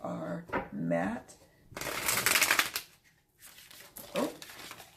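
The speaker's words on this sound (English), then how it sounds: "I keep shuffling and then they fall" A glossy deck of oracle cards being riffle shuffled, with two bursts of dense crisp riffling that run for about a second each between stretches of close conversational talk.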